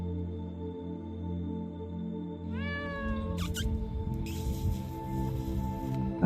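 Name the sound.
cat meowing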